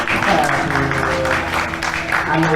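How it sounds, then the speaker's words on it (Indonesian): Applause from an audience at a book launch event in Malang, following a poetry performance, with steady clapping running throughout while a voice or music lines sit underneath. "Kita kasih tepuk tangan yang meriah untuk Ibu Soleh."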